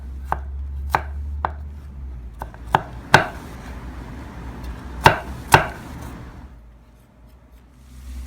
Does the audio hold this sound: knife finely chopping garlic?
yes